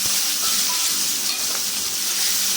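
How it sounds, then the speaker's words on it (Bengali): Cumin seeds, cinnamon, cloves, peppercorns, bay leaf and chopped onion sizzle in hot oil for a Bengali egg curry, a continuous close, fairly loud crackling hiss that stays even throughout with no talking. "একটুখানি জিরে আর কুচনো পেঁয়াজটা দিয়ে দেবো"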